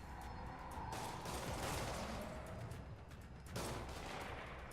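Gunfire in a shootout in the Spider-Man PS4 video game. Dense bursts of shots run together with game noise and come through a little muffled, as if at mid distance. The roar swells and dips with no voice over it.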